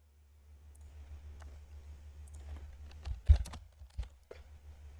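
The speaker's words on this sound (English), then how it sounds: "Oh, my keyboard." Faint, scattered clicks from computer keyboard typing at a game-jam coding session, with a short flurry of louder keystrokes near the end and no talking.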